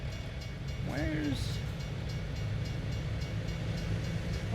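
Train rolling past a railroad crossing in American Truck Simulator, a steady low rumble with a brief rising horn-like tone early on, while someone speaks briefly over it.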